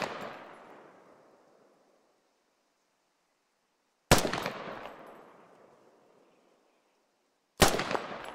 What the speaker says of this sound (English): Designated marksmen are issued with a high-caliber rifle designed to reach out and touch the enemy from further ranges than a standard-issue rifle.